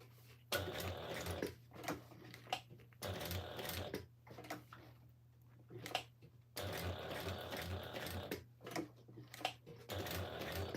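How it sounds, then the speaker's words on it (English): A sewing machine stitches an appliqué animal face on fabric, running in steady whirring bursts of a few seconds each, with short pauses between and faint handling noises. "So I'm sewing the bigger part."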